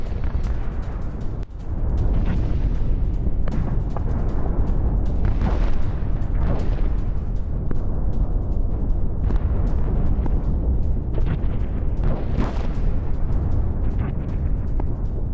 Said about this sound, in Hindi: ड्रोन हमले से ऑयल प्लांट में भीषण धमाका।